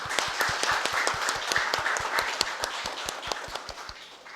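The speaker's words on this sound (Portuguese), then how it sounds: "Uma salva de palmas para eles" A council chamber audience claps at a municipal session, individual hand claps sharply distinct and fairly close, a modest group applauding steadily.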